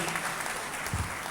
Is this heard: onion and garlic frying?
no